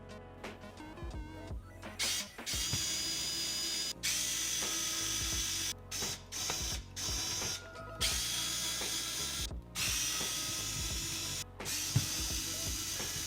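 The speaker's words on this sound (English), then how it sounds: "Luckily for me, I have an electric screwdriver set that happens to have the tri-wing" Electric screwdriver backing tri-wing screws out of a Game Boy Color shell: a close, steady ratcheting motor whir in several separate bursts broken by short pauses, alone without talk.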